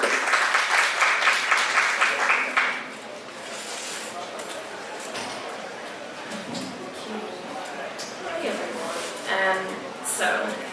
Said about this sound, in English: Would you give yourself a big round of applause for Heather